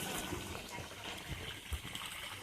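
Water flows steadily at the Dongeshwar Mahadev temple toward a stone pool below, a soft, continuous gush with a faint voice now and then.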